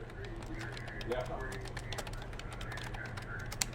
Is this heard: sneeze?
no